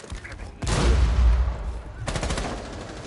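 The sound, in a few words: gunfire from a shooter video game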